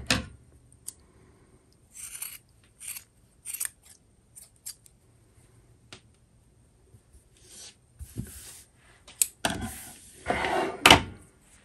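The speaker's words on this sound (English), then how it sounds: "you just want to trim off all of that excess" Scissors trim excess yarn from crochet tassels with a series of short, crisp snips spaced irregularly across the clip. The cuts cluster more densely toward the end, and there is no talk.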